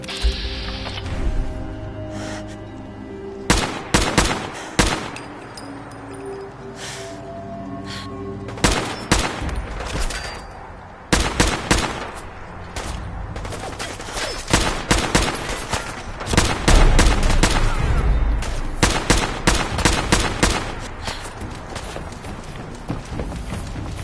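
Heavy gunfire in Fallout 4: repeated loud bursts and single shots crack through a 24-second firefight, dense clusters coming in waves with brief gaps, footsteps and movement between them.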